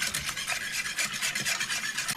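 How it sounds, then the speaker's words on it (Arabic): Starch being stirred into milk in a pot for a quick homemade pudding, a soft continuous swishing and scraping with a gently pulsing rhythm, close by and alone. "وهنحط النشا. بسم الله الرحمن الرحيم كده. ماشي. نبدا نقلب كده"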